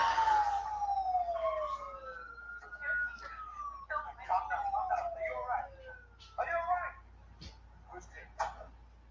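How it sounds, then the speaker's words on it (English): Police siren in a horror film wails and yelps with rising and falling tones, joined by vehicle noise, while people talk over it. "here's the police siren"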